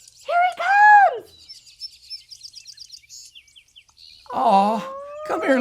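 A human voice imitates a penguin's calls: a long moaning call, then a run of quick high chirps, and another wavering drawn-out cry close by.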